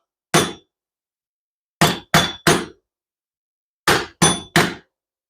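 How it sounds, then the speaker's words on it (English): A screw gun taps the edge of a carburetor on an old Honda-powered Snapper mower to knock it free: seven sharp metallic knocks, one alone, then a quick triple, then another triple, close and isolated against silence. "We're going to hit the edge of the carburetor and it should hop right out."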